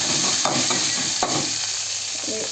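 Green chilies fry in a pan on the stove with a steady, fairly loud sizzle and a couple of brief scrapes from stirring.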